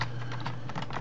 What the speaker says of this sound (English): So I'll just type in the URL here.